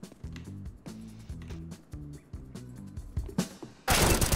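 Gunshots ring out in a CS:GO match, a string of sharp cracks over a low, rhythmic game background, ending in a sudden loud burst of noise.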